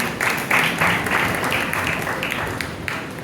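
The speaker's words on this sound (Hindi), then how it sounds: "भाई के लिए जोरदार तालियां बजाएं" Audience applause at a Christian seminar session, a steady wash of many hands clapping at moderate volume that holds evenly for a few seconds.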